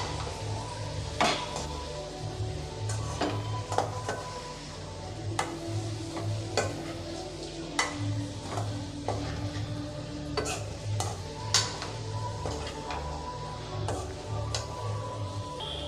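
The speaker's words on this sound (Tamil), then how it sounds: "ஒரு ரெண்டு நிமிஷத்துக்கு நல்லா மசாலாவோட நம்ம அதை மிக்ஸ் பண்ணி விட்டுக்கிட்டே இருக்கணும்" A spoon scrapes and clacks repeatedly against a pan while egg sukka is stirred with masala, irregular close taps over a low sizzle and a steady background hum.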